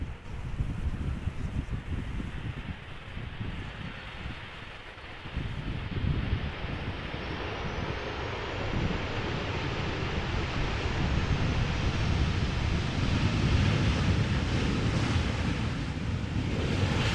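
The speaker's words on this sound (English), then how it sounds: "Wind does seem to be picking up a little bit" Steady wind roars and buffets a microphone outdoors at Amsterdam Schiphol Airport, a broad rushing noise that swells gradually louder over the span with no voices heard.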